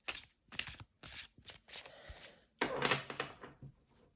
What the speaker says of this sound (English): it's gonna shuffle great